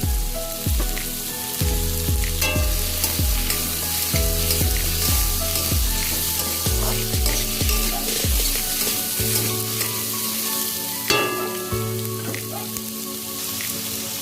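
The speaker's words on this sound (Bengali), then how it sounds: "এবার আলু পেঁয়াজটা আমি ভালো করে ভেজে নেব।" Potatoes and onions fry hard in a pan for a Bengali fish curry, with a loud, steady sizzle throughout and a few light stirring knocks, no voices.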